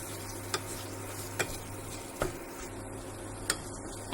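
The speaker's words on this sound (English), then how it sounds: "And now into this let's add chopped garlic, and let's give it a mix." Chopped garlic stirred into a frying pan with green chilies for jackfruit seed biriyani: a steady soft sizzle with a few sharp utensil clicks against the pan at irregular intervals.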